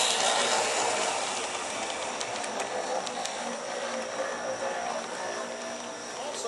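A continuous broadband rushing and hissing hum from a running model Pennsylvania Railroad steam locomotive, steady and fairly loud, with faint clicks and a voice faintly underneath.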